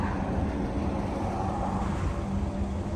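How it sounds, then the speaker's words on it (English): Steady, loud roar of a Dakar yellow Lamborghini Aventador with an aftermarket Powercraft exhaust close by in Tokyo, a dense rumbling exhaust note that holds constant without clear revving. "the Dakar yellow M3 Aventador with what looks like a Powercraft exhaust"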